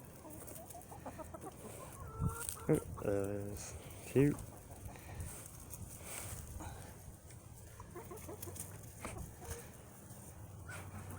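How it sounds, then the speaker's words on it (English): Backyard hens clucking nearby, with several distinct squawks and clucks in the first half and softer cackling continuing beneath a voice. "Here's my hens."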